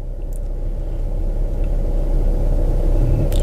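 A VW California van reversing slowly into a parking space under Park Assist, its low engine rumble steady and continuous throughout, close and fairly loud with no talking.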